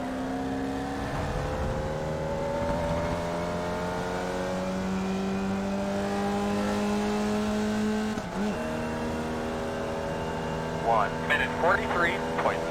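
In-car sound of a low-horsepower race car lapping Laguna Seca, its engine droning in steady harmonic tones that climb, dip sharply at a shift, and resume, with a driver talking over it and brief tire squeals near the end.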